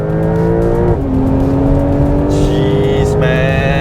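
A Porsche Cayenne E-Hybrid accelerates hard down a race track straight at Sepang, its engine note climbing steadily through a shift, loud and close from inside the cabin.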